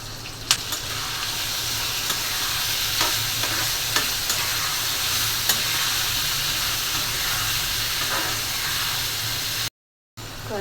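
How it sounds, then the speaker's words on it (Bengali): Chopped onion and shrimp fry in hot oil in a pan on a rooftop, giving a loud, continuous sizzle with occasional crackles and stirring scrapes before a brief cut-out. "পেঁয়াজটা হালকা ভেজে নেব।"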